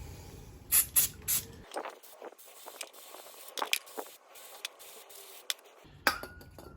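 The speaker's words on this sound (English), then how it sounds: "Spray down with the brake cleaner." Several short, loud hissing bursts of brake cleaner spray on a Citroen C3 during a brake pad change, followed by quieter intermittent spraying and faint metallic clinks.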